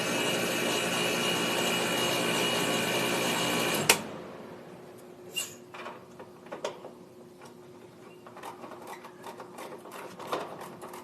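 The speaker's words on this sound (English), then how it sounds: "Here the compressor, it means it's loading up with Freon." An air conditioner compressor runs as it takes on Freon, a steady loud mechanical drone that cuts off abruptly partway through, leaving quiet clicks and small knocks.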